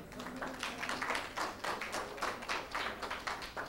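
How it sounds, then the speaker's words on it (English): An audience at a 2010 financial presentation claps, with a soft, fairly quiet run of steady, rhythmic hand claps and no talking over them. "Oh yeah, that gets a hand clap"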